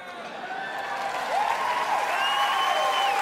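A comedy-show audience at a Gabriel Iglesias stand-up performance bursts into applause and cheering that builds and holds steady, with a few whistles rising over the clapping.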